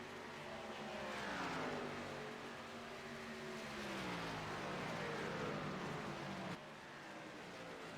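Race cars run behind the pace car under caution, a faint, distant engine drone that rises and falls as cars pass, without speech.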